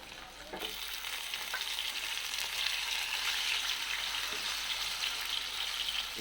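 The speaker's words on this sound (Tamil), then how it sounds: "அடுத்த மீனை போட்டு பொரிச்சு எடுத்துக்கலாம்." Vavval fish, pomfret, frying in hot oil, a dense steady sizzle and crackle that holds loud and close throughout.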